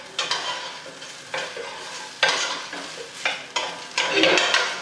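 Onions frying in a pan for a bean stew, a steady close sizzle broken by repeated scraping stirs of a utensil against the pan.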